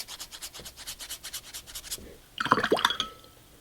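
A paintbrush drags over watercolor paper in a quick series of soft, rhythmic scratchy strokes, close and faint, followed by a brief louder rubbing burst near the end.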